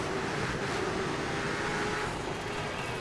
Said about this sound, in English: these are demolition cars, so they will go more slow than regular races